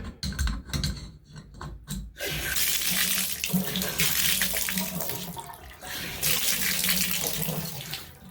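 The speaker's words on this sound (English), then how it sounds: "I'll turn on the water and check them. Check for leaks." An old two-handle shower with newly replaced stems and seats is turned on. A few clicks and knocks of the handle come first, then a loud, steady spray of running water fills the rest, dipping briefly midway.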